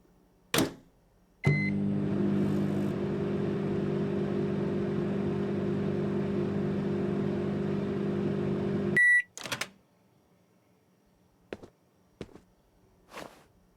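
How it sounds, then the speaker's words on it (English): A video game microwave hums steadily for about eight seconds while heating peas, opening and closing with sharp clicks and a brief beep, then a few faint taps follow in quiet. "I need to microwave the peas, right?"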